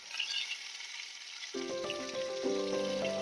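Food fries in a pan with a soft, continuous sizzle and crackle, joined partway through by a brighter tonal hiss as the cooking intensifies.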